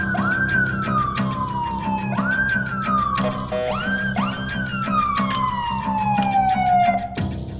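A police car siren wails in repeated rising and falling sweeps, loud and steady, over a low engine hum for several seconds.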